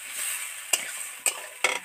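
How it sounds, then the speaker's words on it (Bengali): Vegetables fry in a kadai for a Bengali home-cooked meal, with a steady close sizzle broken by three sharp scrapes of a spatula stirring the pan. "ওগুলো সব ভাজা ভাজা হয়ে গেছে"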